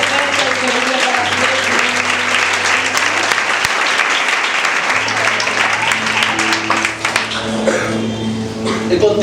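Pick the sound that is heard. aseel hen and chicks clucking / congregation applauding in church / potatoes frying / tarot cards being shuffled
congregation applauding in church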